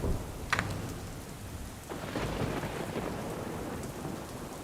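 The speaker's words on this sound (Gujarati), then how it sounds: "ક્યાંક ને ક્યાંક વરસાદ હજુ પણ ચાલુ છે" Steady heavy monsoon rain hisses throughout in Palanpur, India, with a sharp crack near the start and a low rumble of thunder building later.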